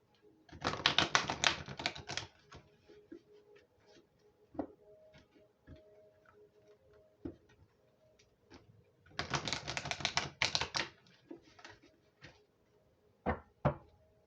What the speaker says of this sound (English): As I'm shuffling, split the deck